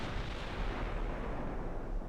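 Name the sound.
battleship gunfire and shell hits in video game Ultimate Admiral: Dreadnoughts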